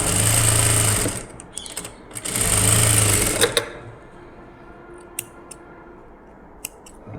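A sewing machine stitches a sleeve design in two loud, close bursts, each about a second long, followed by quieter clicks and small handling noises.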